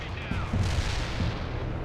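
Medium artillery firing in the World in Conflict real-time strategy game, a few heavy booming shots in quick succession followed by rumbling echoes, set against battlefield ambience.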